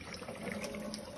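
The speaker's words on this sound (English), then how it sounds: "and turn off the faucet" A faucet pours a steady, soft stream of water into a sink after handwashing, a continuous close hiss with no talking over it.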